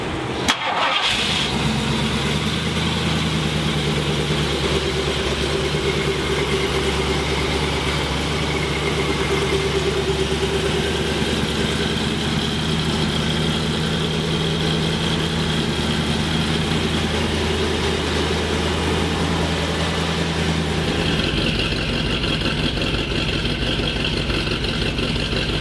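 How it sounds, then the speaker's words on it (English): A 1952 Ford pickup truck engine starts and settles into a steady, rumbling idle with a throaty exhaust note, close by and continuous. "This thing's got a sweet exhaust system on it."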